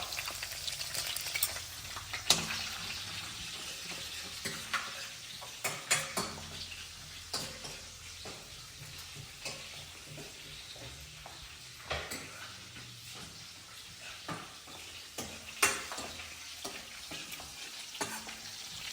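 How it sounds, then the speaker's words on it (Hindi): Cumin seeds, garlic and green chillies fry in hot oil as the base for rajma, giving a continuous crackling sizzle punctuated by sharp spoon-on-pan stirring clatters, close and without speech. "अब मैं डाल देता हूँ इसमें जीरा"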